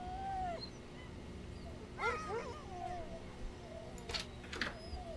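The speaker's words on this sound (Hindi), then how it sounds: "भाई ये कुत्ते हैं ना." Dogs in the horror video game House on the Hill whimper and yip in a series of short, thin, rising and falling whines. The whines are quiet and spaced out over a low, steady hum.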